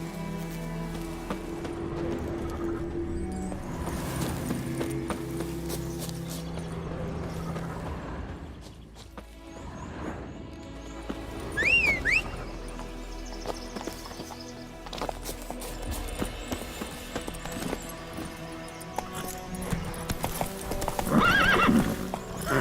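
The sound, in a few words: horse galloping and neighing in the video game The Witcher 3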